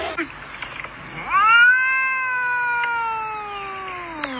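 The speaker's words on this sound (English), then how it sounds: "Aw, hi, little kittens." A long, drawn-out meow rises and slowly fades, close and clear, with a few faint clicks and rustles around it.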